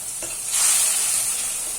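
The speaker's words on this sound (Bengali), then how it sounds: "দিয়ে মশলাটাকে কষাবো।" Chana masala powder and spices sizzle steadily in a pan for a vegetarian ghugni while being stirred, giving a bright, continuous frying hiss that swells slightly after the first moment, with no voices.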